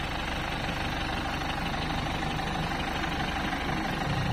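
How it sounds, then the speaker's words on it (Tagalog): A vehicle engine idles smoothly and steadily at close range, a continuous even hum with no speech over it. "tingnan nyo ang andar ng makina natin. Pinong-pino pa."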